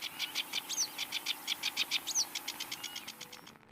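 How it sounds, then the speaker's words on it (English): A sedge warbler sings a long run of rapid, evenly spaced chirps and buzzy notes with a few higher whistled flourishes mixed in. The song is fairly quiet and close, heard alone until it stops abruptly. "I have decided to present a species known as the sedge warbler"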